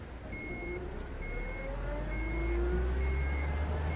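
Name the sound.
truck engine running and driving off in video game Unmetal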